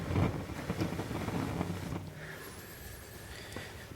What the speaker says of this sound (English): I'll go ahead and blow on it steadily.